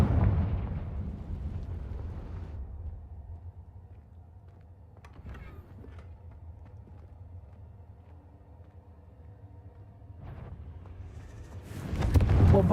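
A Confringo spell explosion in a wizarding video game bursts into a deep, booming rumble that decays into a quieter low hum, then a second blast rises at the end.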